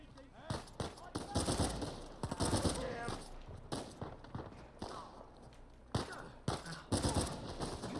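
Scattered gunfire in an Uncharted 4 firefight, irregular sharp shots and short bursts at moderate loudness, mixed with thumps and footsteps.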